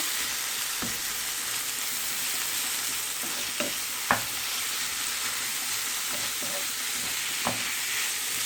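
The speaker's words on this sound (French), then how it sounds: "Je mélange le tout bien." Minced meat with herbes de Provence and parsley sizzles steadily in a frying pan while a utensil stirs it, giving a few soft scraping clicks over the constant close frying hiss.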